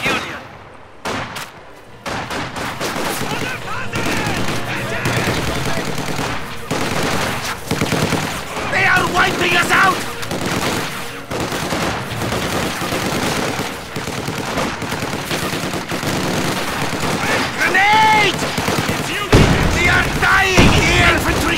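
Battle gunfire from the World War II strategy game Company of Heroes 2, with Soviet combat engineers under attack: dense, continuous bursts of rifle and machine-gun fire layered with booms, loud throughout, with unit voice lines and radio chatter mixed in.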